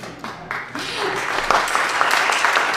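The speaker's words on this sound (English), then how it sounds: "Yeah, they deserve some applause." Audience applause starts with a few scattered claps and swells into full, steady clapping from a room of people, close and fairly loud, with no talking over it.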